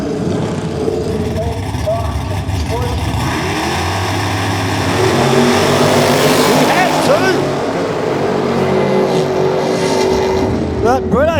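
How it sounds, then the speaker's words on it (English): No-prep drag race cars, one with a big 636 cubic inch Chevrolet engine, roar down the strip in a loud, sustained engine blast, with crowd noise and an announcer talking over the racket. "the power of that big 636 cube Chev"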